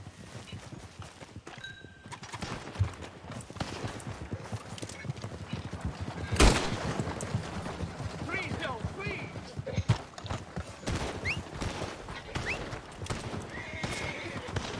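A horse in Red Dead Redemption 2 gallops with steady clip-clopping hooves and lets out one loud whinny midway. A voice talks now and then over the hoofbeats.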